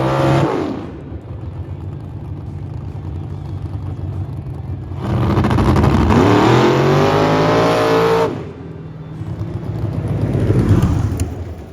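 A boosted big block drag car runs at the strip, its engine droning loud, then surging into a harsh high rev for a few seconds before dropping back and rising again.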